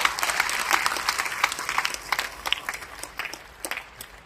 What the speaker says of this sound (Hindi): तो एक बार आपके लिए ताली बजा दें यार।